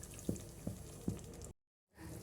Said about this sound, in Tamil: சூப்பு நல்லா கொதிக்குது.